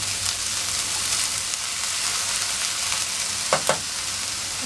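Onion and okra sauté in a pan with a continuous, even sizzle and a couple of quick stirring clicks near the end.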